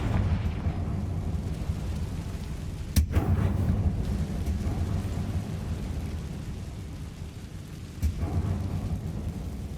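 Confringo fire spell blasts in Hogwarts Legacy on PS5: two sharp explosive cracks a few seconds apart, the first stronger, over a steady rain-like rumbling ambience.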